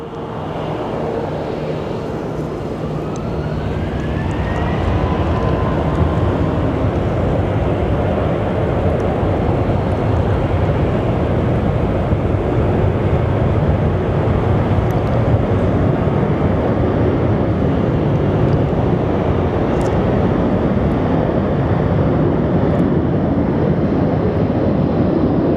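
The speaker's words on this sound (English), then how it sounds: "We do actually have a Canyon Blue 737" A Canyon Blue Boeing 737 airliner roars steadily at Sky Harbor airport, a loud continuous broadband rumble with wind buffeting the microphone throughout and no pause.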